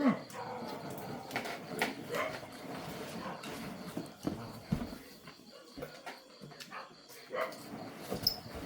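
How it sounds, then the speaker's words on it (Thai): A dog barking outdoors during a rural fish-grilling cookout, with several barks and whimpers scattered among nearby chatter and other background noise. "หมาเห่าหยัง"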